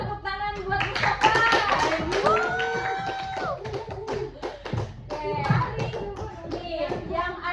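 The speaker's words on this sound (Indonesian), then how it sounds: "coba tepuk tangan buat Mustafa." Classroom applause from children during a microteaching lesson, uneven clapping mixed with kids' voices and a teacher speaking, moderately close.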